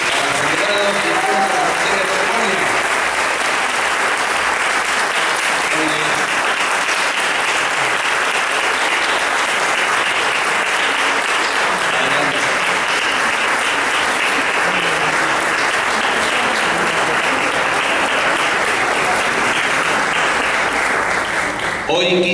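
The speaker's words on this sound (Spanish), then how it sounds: "Brindamos un fuerte aplauso" A school ceremony crowd marking the bicentenary of school cooperatives applauds heavily, a long, loud, continuous wall of clapping lasting over twenty seconds with faint voices mixed in.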